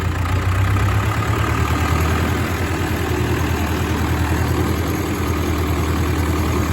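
A 4WD David Brown tractor engine idles steadily and loudly up close, a deep, even rumble with a constant low throb and no voices.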